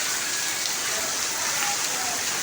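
Steady rain falls outdoors where weak livestock are kept, a dense, even hiss of rain on surfaces that fills the whole stretch without a break.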